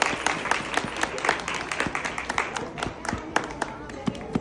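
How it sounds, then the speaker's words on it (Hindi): An audience at a spiritual gathering applauds, with sharp, uneven claps over a steady bed of crowd clapping, fairly close and lively throughout. "यहाँ तालियां बजा दो इसके लिए"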